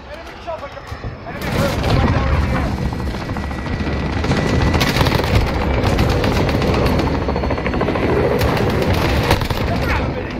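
In a Call of Duty hardpoint match, an enemy helicopter drones loudly and continuously while bursts of gunfire crackle around it, a dense, near battle din with voices mixed in.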